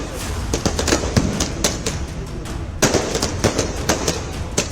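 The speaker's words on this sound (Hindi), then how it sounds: "यहाँ पर देखिए पटाखे जलाने लोग शुरू कर चुके" Firecrackers going off outdoors at an election-result celebration in Jharkhand: rapid, loud crackling bursts in irregular volleys, sharp pops overlapping one another throughout.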